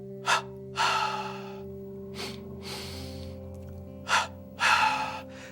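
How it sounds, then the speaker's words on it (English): A yoga practitioner does double-inhale, double-exhale breathing, with sharp close breaths in and longer rushing breaths out in two distinct cycles against a steady background hum. "double inhale, belly expands, double exhale"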